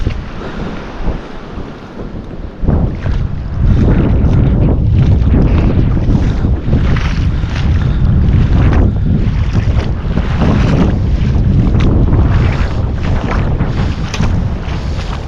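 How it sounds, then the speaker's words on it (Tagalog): Strong sea waves churn and crash during a storm on the coast while heavy wind buffets the microphone in a continuous loud roar with gusty surges. "malakas yung alon"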